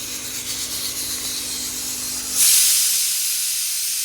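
Steam hisses steadily from a pot boiling teasel gourd, potato and papaya, with a soft broadband rush that grows noticeably louder partway through and then holds.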